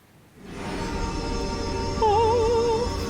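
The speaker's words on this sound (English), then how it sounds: "this is the sound of Bless" A shimmering magical effect for the Dungeons & Dragons cleric spell Bless swells in with sustained bright tones, then a warbling chime-like melody rises over the glowing hum.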